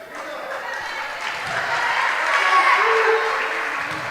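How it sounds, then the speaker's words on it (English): Crowd at a middle school volleyball game applauding and cheering in a gym, a steady wash of clapping that swells slightly midway and holds to the end. "Culleoka sounds like they've got a good crowd here."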